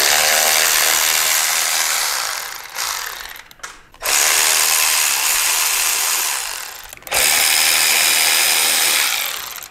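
A power tool whirs loudly in three long bursts with brief pauses, backing bolts out of a snowmobile derby cover, close and alone without talk.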